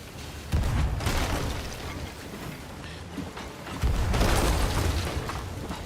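Ship cannons firing in the pirate game Sea of Thieves, two heavy booming broadside bursts with rumbling tails, loud and close over a steady background of sea and ship noise.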